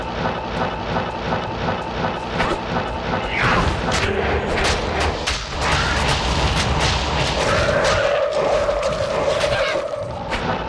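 Corpse Explosion spells from Diablo 2 set off a dense run of booming blasts and crackling impacts, layered over steady game sounds, loud and continuous.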